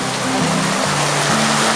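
A steady, dense wash of heavy rain pours down at a beach, loud and unbroken throughout, with a low tonal hum weaving beneath the downpour.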